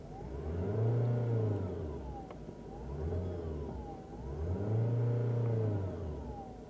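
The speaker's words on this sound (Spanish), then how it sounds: "¿veis cómo suena el motor?" A Ford Mondeo engine revs up and eases off twice, the pitch rising and falling in smooth surges, close by with no one talking.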